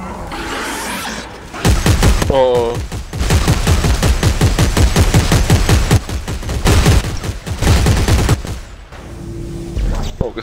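Gunfire in Dead Space 3: loud, rapid bursts of automatic shots crackle in near-continuous runs, with a short break and a few lulls in between, and a voice speaks briefly in places.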